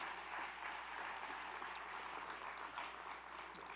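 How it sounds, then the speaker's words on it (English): An audience applauds a panel at a fireside chat, a steady wash of clapping heard from a distance and fairly faint, with no talk over it. "Give them a round of applause."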